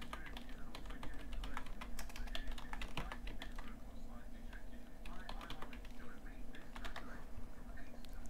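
Rapid bursts of close typing on a computer keyboard while setting up a game weapon asset, clicks clustered in uneven runs with soft speech murmuring underneath.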